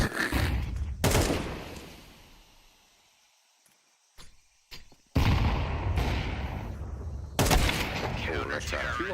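Gunfire from a Counter-Strike match during a BLAST Open Rotterdam quarter-final watch party, dense bursts of rapid shots starting abruptly in loud clusters with gaps between, alongside excited speech.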